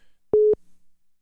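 A single steady telephone tone beeps once, a clean sustained note lasting about a fifth of a second, loud and isolated against a quiet background after a call.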